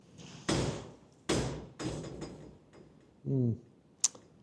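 A door opens inside a workshop with a few sharp latch and hinge clunks, a short creaking scrape and a final click, fairly close and loud with no talk.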